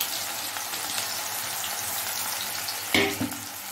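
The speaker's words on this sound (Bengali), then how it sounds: "এবার পেঁয়াজটা ভাজা ভাজা হবে," Dried onions fry in a pan with a soft, steady sizzle, broken near the end by a brief clatter of utensil against the pan.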